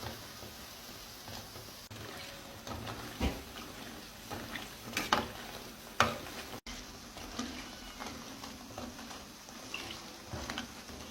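Luqaimat dough balls fry in hot oil with a faint, steady bubbling sizzle punctuated by scattered light pops and the odd utensil tap.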